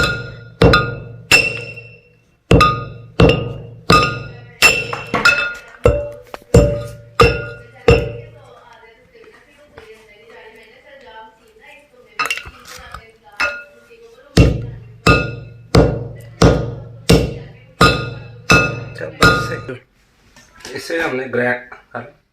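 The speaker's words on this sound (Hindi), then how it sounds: "चोब चीनी को ज़रा तोड़ लें क्योंकि ये बड़ी सख्त लकड़ी है।" Hard chob chini (China root) wood is struck and broken with a run of sharp, loud, regular clinking blows, then a quieter pause, then another rapid series of close knocks.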